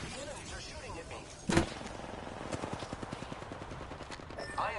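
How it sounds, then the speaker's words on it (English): Enemy gunfire in the video game Apex Legends: one sharp blast followed by a rapid, steady burst of automatic shots, moderately loud, with a voice speaking over it. "Enemies are shooting at me."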